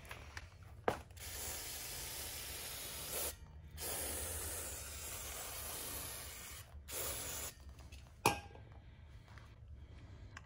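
Finish Line disc brake cleaner is sprayed from a long nozzle onto a bicycle disc brake rotor in several sustained hissing bursts, separated by short pauses and ending with a couple of sharp clicks.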